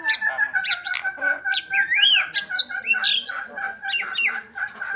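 A hill myna, or tikka moyna, gives a loud, close run of varied whistles, squawks and chirps, with rising and falling notes over a steady background tone.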